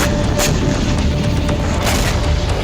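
An explosion during a Ukrainian attack on Crimea produces a loud, deep, rumbling boom. Dense low noise holds throughout, marked by a few sharp cracks, with no speech.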